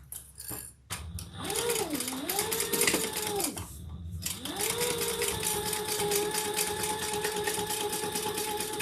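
Sewing machine stitching the lining of a leather crossbody bag, running in bursts that speed up and slow down, with a clear whirring whine and mechanical rattle, close and alone.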